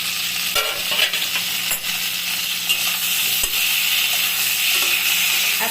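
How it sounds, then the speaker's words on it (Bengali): Pointed gourd frying in a little oil in a covered pan over a low gas flame, a steady soft sizzle with occasional light clinks and stirring taps, no voices. "এটা লো ফ্লেমে জিনিসটাকে ভাজবো আমি"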